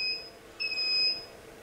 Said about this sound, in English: let me wait till it beeps again